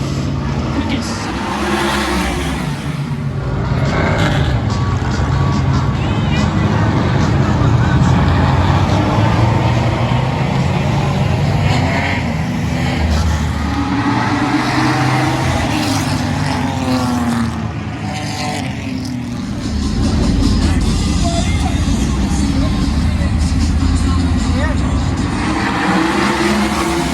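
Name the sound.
sprint cars racing in the trophy dash at Western Speedway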